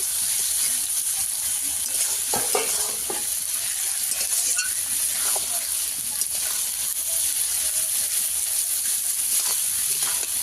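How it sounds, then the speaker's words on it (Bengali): Tomatoes and green chillies sizzle and fry in a pan of country chicken curry, a steady close hiss broken by stirring scrapes, with a voice speaking over it. "টমেটো আর কাঁচা লঙ্কা দিয়ে দেবো, সবকিছু আবারও ভালো করে কষিয়ে নেব।"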